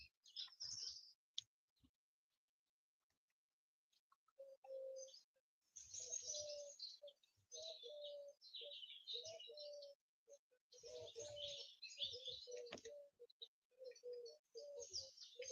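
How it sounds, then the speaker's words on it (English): Wild birds sing in the morning in quiet bursts of high chirps and tweets, several overlapping calls with lower repeated notes, after a brief lull near the start, faint and fairly distant with no voices. "the wild birds singing"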